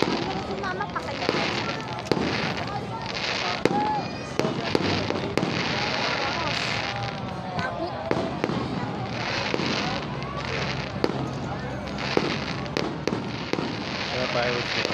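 A fireworks display at a New Year celebration in Taguig, with repeated sharp bursts and crackling pops going off steadily, moderately near, mixed with crowd noise and people talking throughout.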